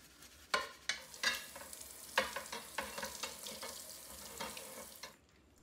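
Water rinsing Ludwig Acrolite snare drum hoops from a 1967 drum, a splashy, hissing flow broken by several sharp clanks and splashes as the metal hoops are moved under it.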